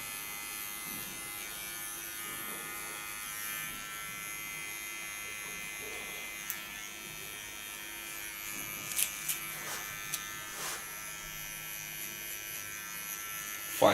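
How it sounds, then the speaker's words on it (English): A small electric hair clipper buzzes faintly and steadily while cleaning a contour line during a short pixie haircut, with a few light clicks near the end and no talking. "Now get to my small clipper, clean the contour line."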